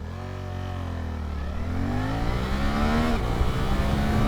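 A 2025 Suzuki GSX-8S motorcycle accelerates hard with a quick shifter, its engine note climbing steadily in pitch through a brief shift, loud and close over wind noise.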